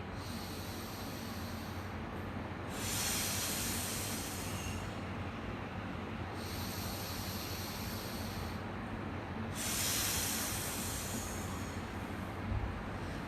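Yoga breathing with forceful exhalations through pouted lips, pushed like blowing up a balloon: two long, strong hissing breaths, each lasting a couple of seconds, heard close against a steady background hush.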